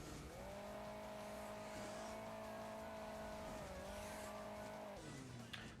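Upgraded car engine in the Hill Climb Racing 2 mobile game, driving after a triple engine upgrade: a steady, loud synthetic engine drone holds a constant pitch with a slight dip, then drops off abruptly near the end.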